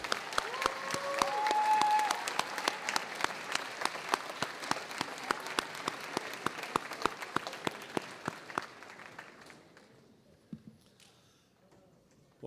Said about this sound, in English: Let's give them all another round of applause for their hard work.